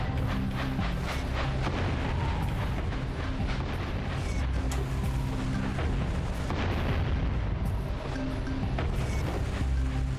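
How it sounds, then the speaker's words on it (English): Heavy cannon fire from a gun emplacement overhead in the platform game Jak and Daxter: The Precursor Legacy, a dense, continuous barrage of booms and blasts with rumbling impacts running throughout, loud and close, with no voices. "Oh, it's from the cannon up top."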